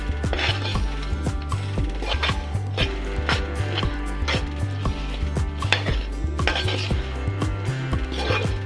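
Jaggery spice mix is stirred into fried banana chips for sarkara varatti, with repeated rhythmic clunks and scrapes of a spoon in a pot, close and steady throughout.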